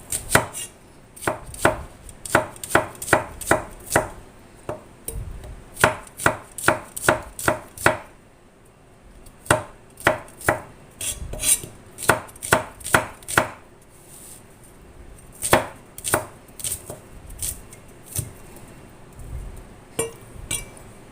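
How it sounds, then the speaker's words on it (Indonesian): Shallots sliced with a knife on a cutting board while preparing soup seasoning: rapid, steady chopping strokes in several long bursts with short pauses, close and crisp, no voices. "Bawang merahnya diiris terlebih dahulu."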